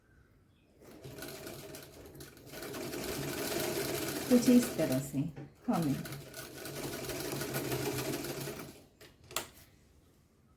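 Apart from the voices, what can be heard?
sewing machine doing double stitching on pants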